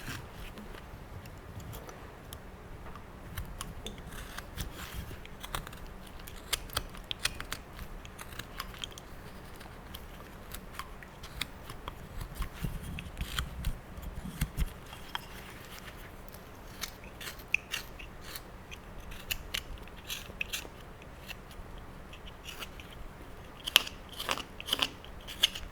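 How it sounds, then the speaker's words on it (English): A knife carving stop cuts into a wooden spoon being shaped into a hatted figure, producing quiet, irregular crunching and snipping cuts close up at a steady working pace, with no talk. "start putting the curvature to the hat here by making a stop cut in here and creating the bend in his hat"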